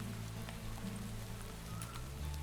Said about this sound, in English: We do have a little bit of rain